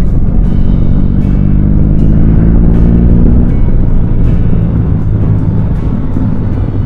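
Deep, steady engine rumble from a BMW R18 bagger motorcycle, continuous and loud throughout with heavy low-end drone and a few faint ticks above it, no voices.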